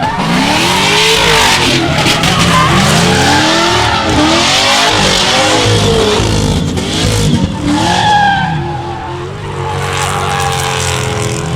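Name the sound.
drift car launching and understeering at motorsport event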